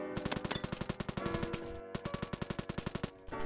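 UMP submachine gun firing in a video game, two rapid sustained bursts of evenly spaced shots separated by a brief gap, fairly quiet in the mix with no talk.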